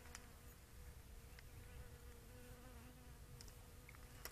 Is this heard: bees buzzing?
yes